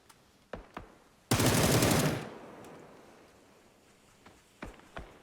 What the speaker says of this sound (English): Weston getting the final shots off before he has to move from that window.